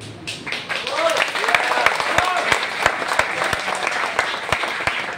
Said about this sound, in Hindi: सबसे पहले मैं आप लोगों से ताली चाहूंगा